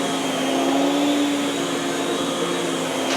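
A Miele S7 upright vacuum cleaner running on carpet, a loud steady motor whine with a sustained airy roar, close up and alone with no speech.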